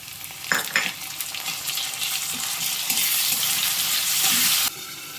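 Carrot pieces and tomatoes sizzle steadily in a home cooking pan, with a few sharp stirring clatters at the start, then a dense, loud, continuous frying hiss that cuts off abruptly near the end.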